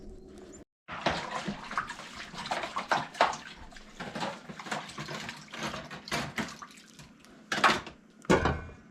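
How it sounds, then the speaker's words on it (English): Meltwater drips off a sunlit, snow-covered shed roof at an off-grid cabin, a close, irregular patter of wet splashes and taps running almost continuously after a brief pause near the start. "We got drips coming off the shed there today where the sun's shining on it."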